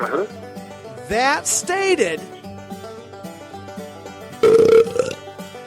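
A loud, wet belch rumbles out, stretched and gurgly, with music playing in the background.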